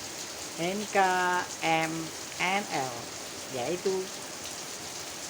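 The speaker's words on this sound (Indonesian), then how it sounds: "di luar hujan" Rain falls outside in a constant soft hiss that runs beneath a person talking in several bursts, faint and distant behind the voice.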